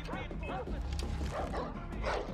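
A dog barks and yips in the video game Far Cry 4, several short yelps and whines in quick succession over game background sound, fairly close.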